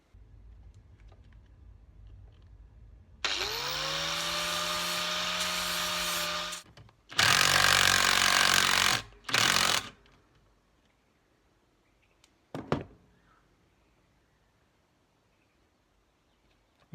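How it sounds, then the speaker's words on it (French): Angle grinder briefly grinding the surface of a Showa shock absorber rod from a 1986 Honda CR250R, a loud steady whine of about three seconds, followed by two shorter harsh grinding bursts and a few faint clicks in a quiet workshop. "il faut meuler la surface de la tige"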